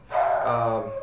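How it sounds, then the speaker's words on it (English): A pet dog barks indoors, a single drawn-out, whiny bark-yelp that rises sharply and holds for about a second, close to the microphone and loud with no voices over it. "pardon my dog, she likes to bark at pretty much anything that moves"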